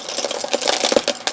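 Small buttons rattling and clinking inside a drawer as it is moved, a quick close burst of bright, jangly clicks lasting just over a second.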